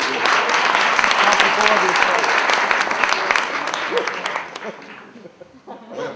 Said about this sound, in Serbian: Aplauz Novaku Đokoviću.